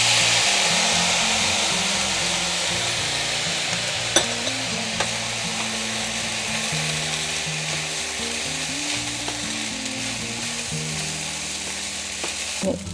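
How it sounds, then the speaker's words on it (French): Rice stir-frying with soy sauce in a pan for Cantonese fried rice, giving a loud, continuous sizzle with occasional clicks of the utensil, and no talking. "Et enfin le riz. J'ajoute ensuite la sauce soja."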